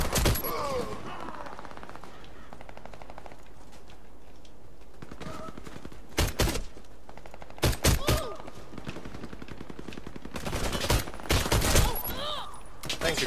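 Gunfire from a Sig Sauer 226 pistol in a video game: several sharp shots in clusters, single cracks near 6.5 s and 8 s then a rapid burst around 11 s, over steady game ambience with no one talking.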